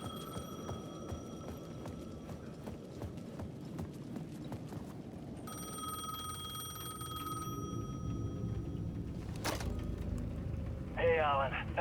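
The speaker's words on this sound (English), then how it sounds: "The payphone at the edge of the plaza was ringing again." A payphone rings in a plaza in the Alan Wake II video game, a bright repeating bell with clopping, rhythmic footsteps underneath and a sharp electronic burst near the end.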